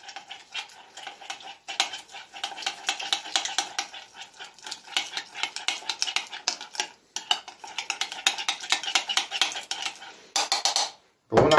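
A metal utensil scrapes and clinks steadily against a dish while mustard is stirred into a baked trout and vegetable dish, a rapid close rhythmic stirring lasting several seconds before a brief pause and a final clatter.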